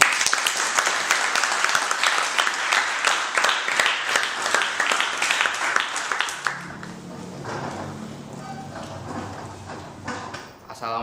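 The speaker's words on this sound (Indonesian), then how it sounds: "Beri tepuk tangan buat kelompok ini." A classroom audience applauding a student group presentation, with dense, close clapping for about six seconds that then fades into murmuring voices and shuffling.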